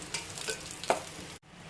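Raisins fry in hot ghee as a soft, close sizzle, broken by brief stirring scrapes, before cutting off abruptly near the end.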